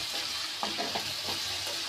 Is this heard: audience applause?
no